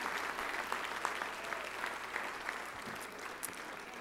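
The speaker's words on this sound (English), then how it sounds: "A big round of applause for all the restaurants." Steady, warm applause from a crowd at a charity roast dinner, cheering the participating restaurants, even and continuous throughout at moderate loudness.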